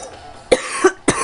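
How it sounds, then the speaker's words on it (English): Several sharp coughs from one person close to the mic, in quick bursts with short pauses between them, while a soft game soundtrack murmurs underneath. "Can't stop coughing."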